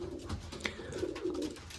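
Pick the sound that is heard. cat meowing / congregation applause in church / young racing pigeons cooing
young racing pigeons cooing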